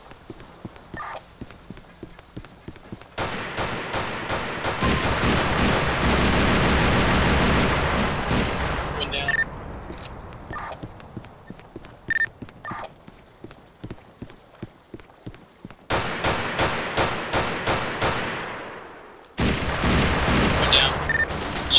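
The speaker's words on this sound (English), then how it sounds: "Shots fired." Gunfire in a police shootout in the video game GTA IV, rapid bursts of automatic shots in long loud volleys separated by brief pauses and scattered single shots.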